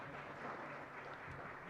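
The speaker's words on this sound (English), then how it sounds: "A round of applause for him." Audience applause at the World Circular Economy Summit, a steady quiet wash of clapping heard from a distance.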